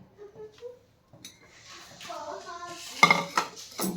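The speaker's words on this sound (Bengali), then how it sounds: "এবারে আমি এই মশলাগুলো একটা পাত্রের মধ্যে ঢেলে মিক্স করে নেব পাইনঅ্যাপেলের সাথে।" A spoon clinks and scrapes against a bowl as spices are mixed with pineapple for a street-style anaros makha snack, quiet and sporadic at first, then busier clattering toward the end.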